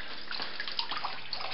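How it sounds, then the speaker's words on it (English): Water from a loop siphon runs down PVC pipe into an aquarium tank, a close, continuous trickling and splashing with small bright droplet sounds and no speech. "Here's the loop siphon running down the PVC in the water."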